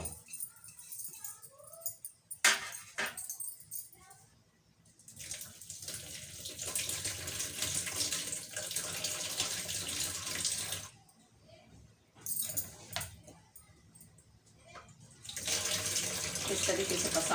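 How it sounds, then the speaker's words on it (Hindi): Tap water runs while lentils are washed for cooking in a home kitchen, in bursts of gushing and splashing separated by short quiet gaps. The sound is fairly faint and close. "नहीं तो एक बार और मैं इसको धो देती हूँ, क्योंकि इसमें तो जितना पानी पड़ेगा कोई दिक्कत नहीं है"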